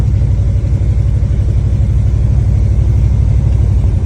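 A 1960 Ford F-100 Stepside restomod truck engine drives with a loud, steady low rumble and continuous mid-range growl, no voices over it.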